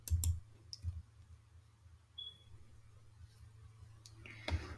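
Computer mouse clicks at a desk, a few sharp, faint clicks near the start and end, separated by quiet room hiss with no talking.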